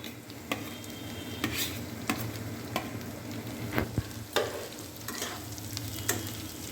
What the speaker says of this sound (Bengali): লঙ্কা কুচি ও আদা কুচি দিয়ে ভালো করে ভাজতে হবে।